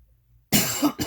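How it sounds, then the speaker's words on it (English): Silence, then a sudden burst of harsh, close coughing, two or three rough coughs in quick succession. "This is incredibly unprofessional to be coughing like this."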